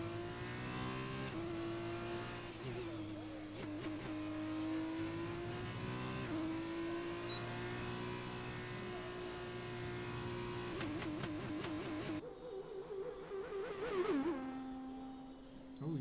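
A Formula 2 race car at the Italy round holds sixth gear at a steady, droning high pitch for a long stretch, then shifts with quick stutters and the engine note dips and rises again, heard continuously without talk.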